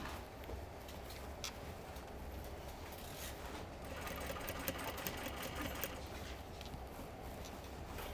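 A sewing machine stitches a jeans waistband seam, its steady rapid mechanical whir running continuously and close, with a slight rise in intensity midway and no voices.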